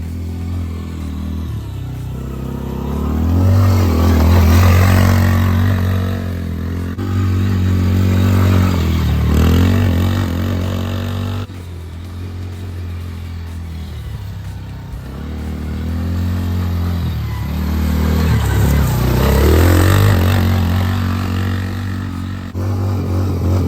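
A Yamaha Grizzly 90 youth ATV with a newly installed shock and spring is ridden around outdoors. The small engine rises and falls in repeated revving passes, coming near and loud, then easing off, with some rattling clatter.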